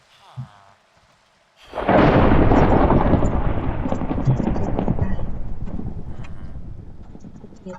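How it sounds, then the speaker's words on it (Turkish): Minecraft rain pours down in a loud, steady wash after a brief quiet start, with a rumble of game thunder rolling in near the beginning of the downpour, and a voice speaks briefly over it. "yine bir yağmur yağdı ya."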